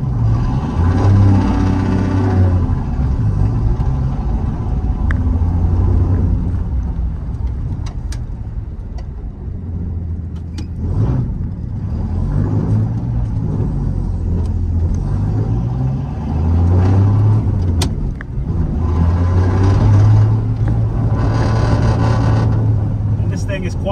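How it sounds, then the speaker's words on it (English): A 1972 Dodge Coronet Custom with a slant six and manual stick shift drives along, its engine droning and rising as it pulls through the gears, with someone talking over the steady road rumble. "So we'll take a short drive around."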